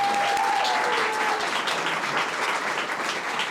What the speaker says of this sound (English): please give family and friends a round of applause